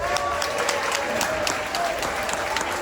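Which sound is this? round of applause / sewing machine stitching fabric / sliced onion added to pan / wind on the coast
round of applause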